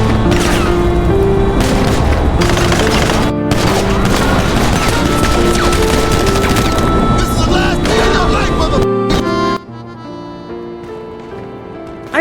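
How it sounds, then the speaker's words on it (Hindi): Sustained gunfire aimed at a character in GTA V, a dense fusillade of shots and booms that runs loud and continuous for about nine seconds, then drops away to a quieter background. "सीधे कैरेक्टर के ऊपर गोली चलाएंगे"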